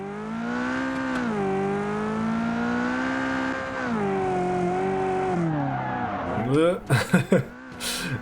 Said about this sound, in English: this basically just allows me to do some burnouts. Oh, and skid all over the place onto the curb